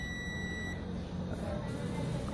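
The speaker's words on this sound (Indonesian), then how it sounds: "Nah, bunyi buzzer berarti bertanda short." A high, steady multimeter continuity buzzer tone sounds, cutting off and returning, signaling a short while testing a 900-watt MMA120 arc welder with no output, over faint background noise.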